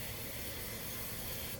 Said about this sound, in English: So we'll spray the pan, or you can spread it with your fingers.